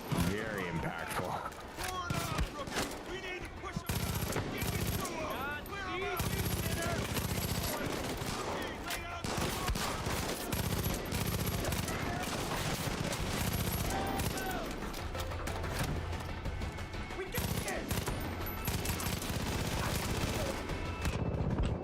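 Dense, continuous gunfire and explosive bursts from a Far Cry video game battle, loud and sustained throughout with many rapid overlapping shots, while someone talks over the action.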